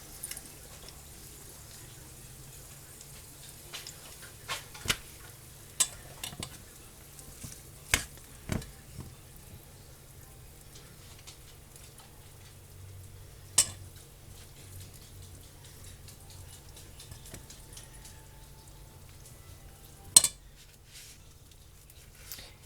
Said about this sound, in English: Put it in our hot oil.